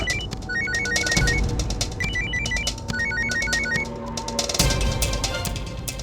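A telephone rings indoors with a melodic ringtone, a short tune repeated several times in a row over busy background noise.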